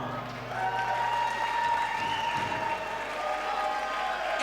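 Crowd applause and cheering at a Fightstar Championship cage fighting event as fighters and judges are acknowledged before the verdict, moderate and diffuse, with a sustained tonal hum and arena noise underneath.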